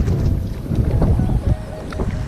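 Wind rushes over a kayak being paddled into a headwind, a steady loud low buffeting roar with faint water sounds beneath, close and continuous throughout.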